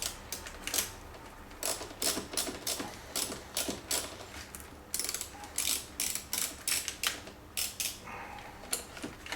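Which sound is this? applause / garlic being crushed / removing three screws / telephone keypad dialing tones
removing three screws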